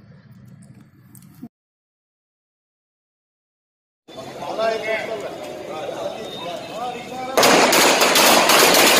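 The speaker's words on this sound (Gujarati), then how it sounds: "રિક્ષા ચાલકોએ મોટી સંખ્યામાં ઉપસ્થિત રહી પાલિકાના પરિસરમાં ફટાકડા ફોડી" A rapid, loud string of firecrackers crackles and bangs in quick succession after a busy stretch of crowd noise and voices, at a municipal office compound in Valsad during a celebration by auto-rickshaw drivers.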